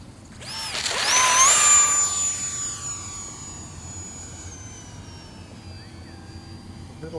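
E-flite UMX F-86 Sabre model jet with a 30mm electric ducted fan flying, a thin high-pitched whine sweeping by up close and then holding steady as it recedes, over outdoor wind.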